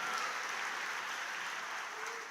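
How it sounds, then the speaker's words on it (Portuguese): Church congregation applauding steadily throughout, a broad sustained wash of clapping with no pauses and no talk over it. "dá um aplauso a Jesus"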